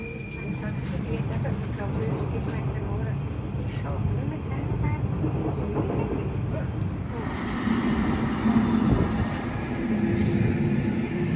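A steady low rumble and rattle of a train rolling along the rails from Lucerne to Engelberg, Switzerland, continuous throughout, growing slightly louder near the end.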